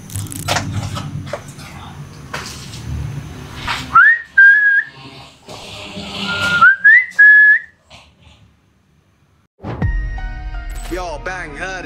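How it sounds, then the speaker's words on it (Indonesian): Two short rising whistles ring out clearly amid scattered knocks and rustling in an empty house, followed by quiet and then a burst of noise. "Ada suara bersiul."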